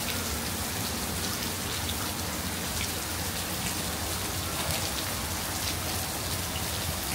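Steady, dense rain falls and patters on surfaces at a zoo in Singapore, a constant hiss with no voices.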